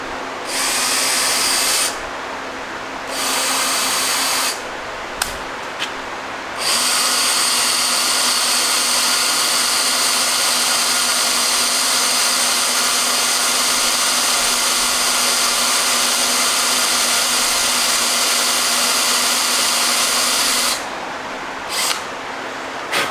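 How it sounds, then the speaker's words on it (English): A power drill whines steadily at high speed drilling out a rusted part on a Monarch 10EE lathe, stopping briefly a few times before running on in long continuous bursts, close and loud. "I'm going to try to drill out the center of that"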